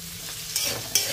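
Onion pieces and green chillies fry in hot oil, a steady sizzle broken by two sharp scraping stirs, close and moderately loud with no voices.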